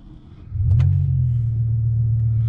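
A BMW E60 M5 with a faulty vacuum pump cranks and catches, settling into a loud, steady low idle rumble close by, with a brief higher whine at the moment of starting.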